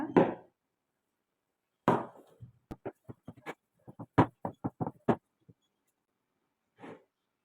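A knife cuts maida sweet biscuit dough into pieces on a board, crisp separate taps in quick runs with pauses between.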